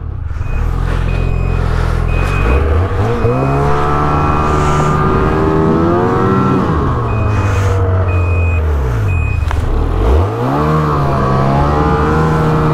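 A snowmobile swings a U-turn on a trail near a road in Illinois, its engine loud and close, revving up and down through the turn with pitch sweeps, a beeping tone repeating above it.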